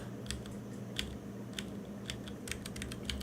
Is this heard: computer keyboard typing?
yes